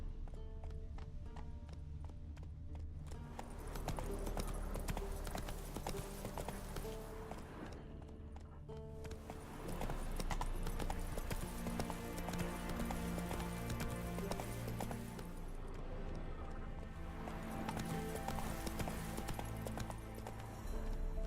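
Hooves of the horse Roach galloping in The Witcher 3, a continuous rhythmic clip-clop carrying under loud game music that keeps going throughout.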